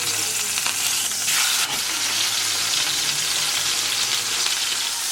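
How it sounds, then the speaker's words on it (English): Chicken for a Dominican chimi sizzles loudly and steadily in a hot pan, a dense crackling hiss that never lets up, with a brief scrape partway through. "As you can see how sizzling that is."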